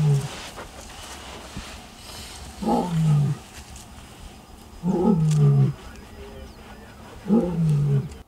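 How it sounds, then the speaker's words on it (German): Lions in the African bush trade deep, moaning roars, three separate bouts several seconds apart, each rising and fading, with quiet ambience between them. "wie die Löwen untereinander kommunizieren und mal sanfte, mal deutlichere Laute von sich geben"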